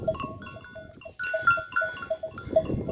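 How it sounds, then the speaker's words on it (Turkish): Goats and sheep in a rural farm setting call out with repeated bleats, several animals overlapping at close to moderate distance, with restless rustling of the flock underneath. "Şimdi bu davarlarımız da çıktı gitti."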